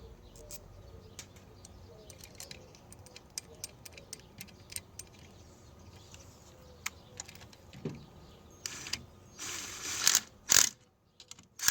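A ratchet clicks in quick repeated bursts while a bolt is tightened during an LS1 ignition and rocker arm upgrade, small metallic ticks close by, ending with a few louder clunks.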